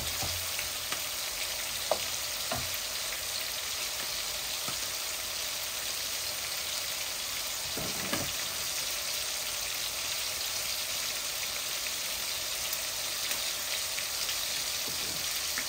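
Chicken coated in chili and spices frying in a pot, giving a steady, close hiss of sizzling with a few sharp pops and crackles scattered through, and no voices.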